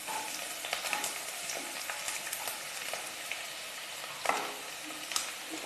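White part of chopped spring onion frying in hot oil with tempering spices, a steady bright sizzle with occasional crackles and scrapes of stirring, close and continuous without voices.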